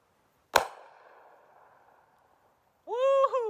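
A homemade golf ball launcher fires a golf ball with one loud sharp pop followed by a fading whoosh and ring, then a person's voice comes in.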